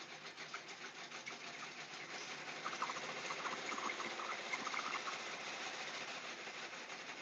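A sewing machine stitching an embroidery project, steady fast mechanical whirring and rapid needle clatter running continuously at a low, even level with no talk.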